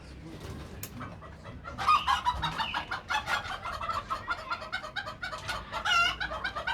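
Chickens in a coop cluck and squawk steadily at close range, a dense overlapping flock chatter with an occasional louder call rising above the rest.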